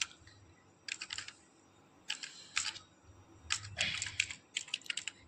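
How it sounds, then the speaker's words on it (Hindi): Keys clatter on a computer keyboard in short bursts of clicks, with several clusters of rapid taps separated by brief pauses, close and clear over a quiet background. "कीबोर्ड से आपको टाइप करना है विन भर।"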